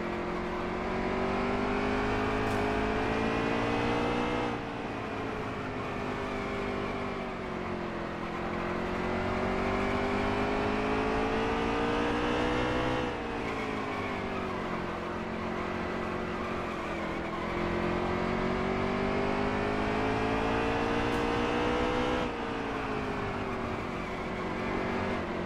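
NASCAR stock cars racing at the Food City 500, engines roaring loud and continuous with long rising and falling revs as the pack sweeps through laps, the pitch cycling in waves with no talk over it.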